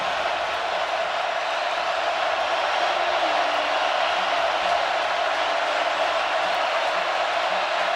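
Steady, dense crowd roar fills a college football stadium, Tiger Stadium during an Auburn versus LSU game, a constant wash of distant cheering with no breaks and no speech over it.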